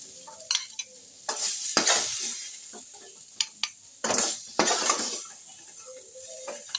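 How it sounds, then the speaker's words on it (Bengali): Fried snake gourd is scraped out of a pan into a mixing bowl. Sharp metal spatula knocks and scrapes arrive in uneven bursts against a faint background sizzle, with quiet gaps between them. "দেখো এবার আমি চিচিঙ্গাগুলো একটা মিক্সিং বলে তুলে নিচ্ছি।"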